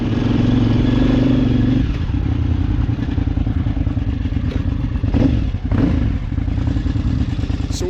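A KTM 950 Adventure motorcycle pulls away on a loose mountain trail, its loud engine droning steadily while rocks and gear clatter and thump as the bike rolls off.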